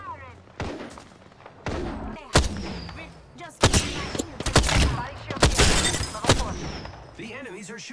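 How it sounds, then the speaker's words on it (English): Enemy gunfire in an Apex Legends match, with repeated loud shots and rapid bursts close by, some sharp cracks and booming impacts, overlapping near and distant fire across the whole stretch. "The enemies are shooting at me."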